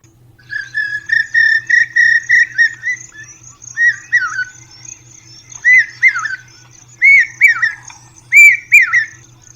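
Koel bird calling in a yard, a series of loud clear whistled phrases repeating about every second, rising and falling, close by over a faint steady insect trill.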